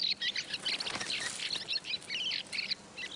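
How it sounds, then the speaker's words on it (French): Fieldfares wintering in an orchard give a busy run of repeated high chirps and chattering calls, several birds close by, over a faint outdoor background. "Et elles font le bonheur des grives litornes, venues du Grand Nord pour hiverner."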